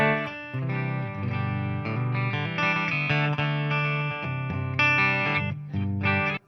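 Electric guitar on an Epiphone's Seymour Duncan Alnico II Pro bridge pickup through a Marshall amp, playing chords and melodic lines with a bright, slightly driven tone and light reverb, steady and fairly loud, no voices.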